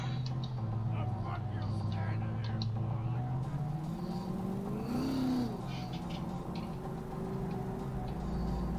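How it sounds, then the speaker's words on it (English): Sports car engine in the video game Cyberpunk 2077, a steady droning hum that rises in pitch as it accelerates around the middle, with talking over it. "Jackie's car is a super-powered sports car running on Chew 2, the super fuel of the future."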